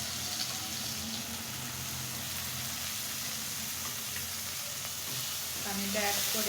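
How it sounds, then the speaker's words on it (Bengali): Spiced shing fish dopiaza sautés in a pan with added water, making a steady, low sizzle and bubbling with occasional stirring scrapes that grow slightly louder toward the end. "পানিটা অ্যাড করে সুন্দর করে ভোনা ভোনা করে নেব, কষিয়ে নেব এক কথায়।"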